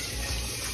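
Water poured into a pan of fish paksiw with vinegar and bagoong, a brief, loud, continuous splashing rush heard up close.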